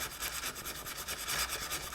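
Steady scratchy rubbing of sandpaper on the burnt wooden rudder section of a model boat, close and continuous with slight rhythmic pulses, no talk.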